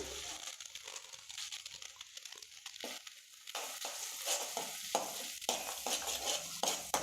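Cumin seeds fry in hot oil in a pan as the base for a barley vegetable soup, giving a continuous crackling sizzle with stirring scrapes, close and steady, with no talking.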